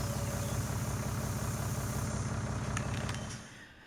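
A tractor engine in Farming Simulator 19 idles with a steady low rumble that fades out toward the end, with a few faint clicks.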